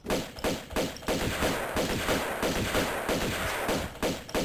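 Rapid bursts of shotgun and pistol fire from enemies and player in Tomb Raider 2 Remastered, loud and repeated in quick succession with brief gaps, no talking.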